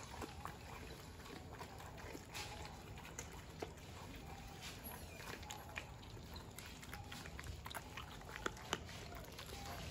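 Two young puppies, recently ear-cropped, chew and bite on raw chicken heads, producing faint wet crunching and gnawing close by, with scattered sharp snaps over a steady noisy background.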